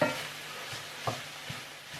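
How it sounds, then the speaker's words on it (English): Flour being stirred into steak and kidney pie filling in a pan: a soft, quiet sizzle with a few light spoon scrapes and taps. "so we're going to give that a little mix around a minute."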